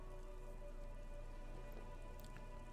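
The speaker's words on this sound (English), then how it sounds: "Rain falls down on the world." Rain falling in the video game Disco Elysium, a faint, steady wash of drops on surfaces under a constant low ambient hum, with no voices.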